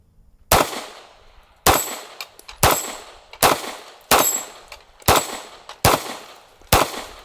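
A small concealed-carry handgun loaded with hollow-point rounds fires eight loud, sharp shots at an even pace, each with a short ringing decay, outdoors and close to the microphone.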